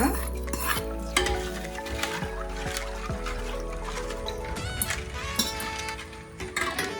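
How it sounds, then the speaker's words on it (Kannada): Hot sizzling tempering is poured into appekayi rasam, a Malnad mango curry, then stirred in a pot, with loud hissing, bubbling liquid and repeated ladle scrapes and clinks against the vessel. "ಒಗ್ಗರಣೆ ಆಗಿದೆ ಇದನ್ನ ಸಾರಿಗೆ ಹಾಕೋಣ"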